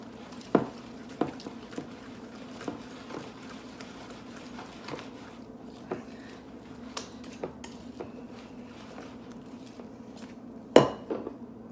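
Stuffed BBQ burger ingredients being mixed by hand in a bowl: soft squishing with scattered light clinks of utensils, and one louder clatter near the end, with no talking.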